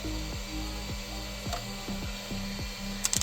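Cover plate screws being backed out of the extruder on an Elegoo Centauri Carbon 3D printer during a teardown, giving a steady run of close, regular ratcheting clicks from a screwdriver, with no talking.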